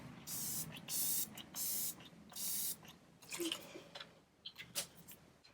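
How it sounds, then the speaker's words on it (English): A hyaluronic acid setting spray mists onto a face in several short, hissing bursts, close up, followed by softer rustling and small handling sounds. "use my hyaluronic acid setting spray from ColourPop and just go ahead and give my face a little bit of a mist"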